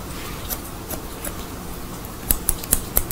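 Thinning scissors snip through hair in a salon, a few crisp close clicks scattered at first, then a quicker run of sharper cuts toward the end over a soft background hiss.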